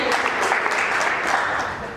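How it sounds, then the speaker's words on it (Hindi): An audience claps loudly for a couple of seconds in an indoor gathering, a dense continuous patter that tapers slightly at the end, with a voice mixed in. "चड्डा जी के लिए जोरदार तालियां"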